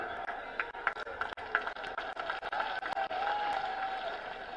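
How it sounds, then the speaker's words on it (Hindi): Crowd at a public meeting applauding to welcome a speaker, a steady wash of many hands clapping at moderate level with scattered sharper claps, continuous throughout. "आप लोगों ने बहुत ही गर्मजोशी के साथ तालियां बजाकर मेरा स्वागत किया है"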